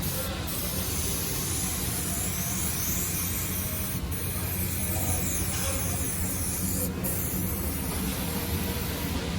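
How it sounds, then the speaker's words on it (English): Steady, loud, close hiss of a spray gun applying a generous coat to a sluice box riffle during a Keene 151S cloth replacement, running unbroken for the whole stretch. "And he walks around, he sprays the edges."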